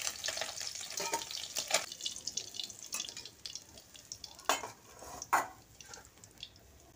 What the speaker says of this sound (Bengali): আমি পরেরগুলো এভাবে ভেজে নেব